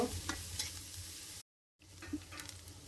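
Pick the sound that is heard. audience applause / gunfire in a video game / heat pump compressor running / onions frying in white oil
onions frying in white oil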